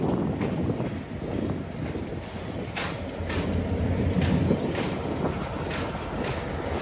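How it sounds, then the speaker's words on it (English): A train rumbles past steadily, with rhythmic clicking of wheels over rail joints and broadband rushing noise throughout. "Oh, there's a train going by."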